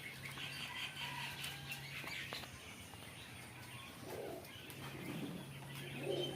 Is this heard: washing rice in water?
no